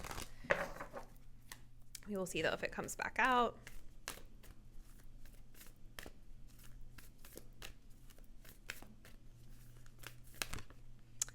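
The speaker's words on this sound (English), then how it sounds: "as I'm shuffling, the second house of resources is coming up" Tarot cards are shuffled close up in a brief riffling, crackling burst, with someone talking softly before and after.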